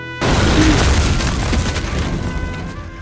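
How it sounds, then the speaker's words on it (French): Grenade blast in the video game Total Overdose: a sudden loud boom erupts and then rolls off into a long, rumbling decay lasting several seconds, with no voices over it. "La grenade, la grenade, la grenade."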